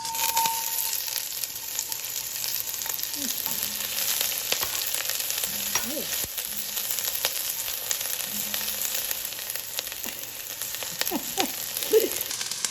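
Onions sauté in a hot pot for extra-sour pork sinigang. A steady, loud sizzle runs throughout, with occasional soft scrapes of stirring.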